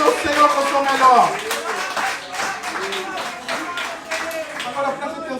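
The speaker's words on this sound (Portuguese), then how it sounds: "Aplauda o Senhor com o seu melhor." A church congregation claps their hands during a worship service, a steady patter of many claps beneath a voice that keeps talking over them, loudest at the start and then settling to a sustained background.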